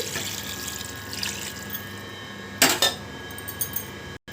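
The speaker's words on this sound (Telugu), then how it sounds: "ఇప్పుడు ముక్కలు మునిగే వరకు వాటర్ పోసుకోవాలి" Water is poured over seasoned mutton pieces for curry, a running splashy wash with one louder gush in the middle and a few small clinks of a vessel, close up and with no voices.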